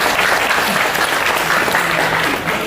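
A crowd claps together at a government aid handout event in Bali, a loud, dense and sustained burst of hand clapping with no pauses.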